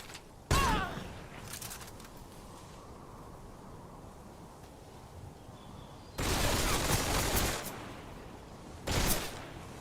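Bursts of gunfire in Metal Gear Solid 4: a sharp burst early, a long sustained burst of rapid shots later, and another short burst near the end, with quieter background between.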